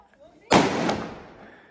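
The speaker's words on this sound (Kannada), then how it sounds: "ಇವಾಗ ಗಗನ ಪಟಾಕಿ ಹೊಡಿತು" A sudden loud bang bursts out after a quiet stretch, followed by a sharp crackle and a long fading hiss as a sky rocket firecracker goes off during Diwali.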